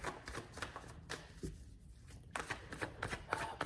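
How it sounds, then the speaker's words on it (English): Tarot cards are shuffled close up in quick papery riffles and soft slaps, with a short pause midway before the rustling resumes. "sometimes when I'm shuffling, I'll get messages while I'm shuffling."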